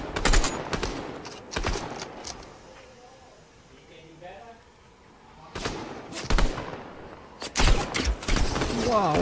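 Gunfire in the battle royale game Fortnite comes in bursts of rapid shots, a volley at the start and more clusters near the end, with players talking between.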